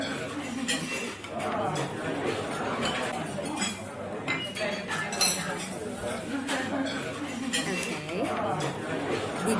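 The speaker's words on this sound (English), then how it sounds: "restaurant or maybe cafe or diners, eatery like that?" Busy restaurant or cafe ambience: steady crowd chatter fills the room while cutlery and dishes clink and clatter intermittently throughout.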